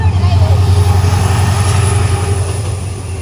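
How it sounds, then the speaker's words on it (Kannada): A train passes close by, giving a loud, steady rumbling drone with engine hum that holds throughout and eases slightly toward the end. "ರೈಲ್ ಹೋಗ್ತಾ ಉಂಟು."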